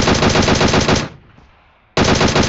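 An MK14 rifle in PUBG Mobile fires in loud, fast automatic bursts, a roughly one-second volley, a short near-silent pause, then another burst, very close and with no talk.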